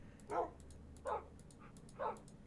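Three short dog barks from Minecraft wolves in a modded FTB Infinity game, evenly spaced about a second apart, crisp and moderately close over a quiet background hum.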